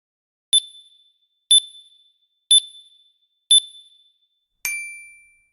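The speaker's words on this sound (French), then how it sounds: "Voilà la clochette de la pause qui vient de sonner." Workout interval timer bell marking a break in a short HIIT session: four bright, evenly spaced dings about a second apart, then a final longer ringing chime, clear and alone.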